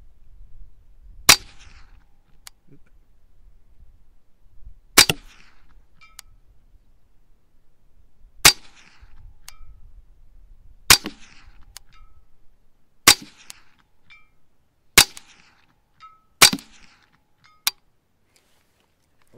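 A Ruger 10/22 .22 rifle fires CCI Segmented and SK Match rounds at a 200-yard target, seven sharp single shots spaced a few seconds apart outdoors, with faint rustling between and no talking.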